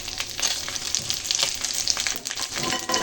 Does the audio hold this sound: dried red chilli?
yes